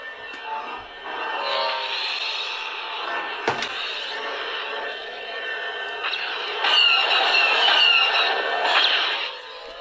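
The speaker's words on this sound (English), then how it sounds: "Speeder bike." A Star Wars speeder bike effect from a lightsaber sound font plays as a smooth whooshing, whining hum that holds for several seconds with a sharp click partway through, then swells louder near the end.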